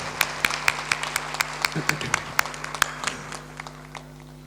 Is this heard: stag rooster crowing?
no